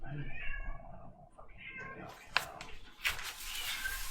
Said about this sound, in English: Meow, poor kitty